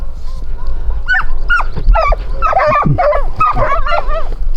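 Italian hound dogs baying while trailing a hare in open hunting country, several voices giving repeated yelping, wavering cries that overlap at moderate distance.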